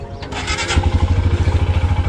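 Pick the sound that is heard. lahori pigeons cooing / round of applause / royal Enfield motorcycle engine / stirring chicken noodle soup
royal Enfield motorcycle engine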